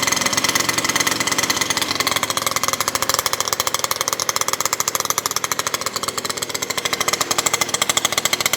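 A small cold engine idles with the choke on, running with a rapid, even, loud chatter that holds steady throughout with no talking.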